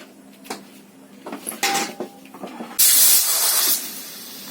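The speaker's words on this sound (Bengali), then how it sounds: "তো হয়ে গেছে আমার 3টা সিটি।" A pressure cooker on a gas stove lets off steam after its whistles while cooking sambar, with some clattering and handling noises first, then a loud, sustained hiss lasting about a second before it fades.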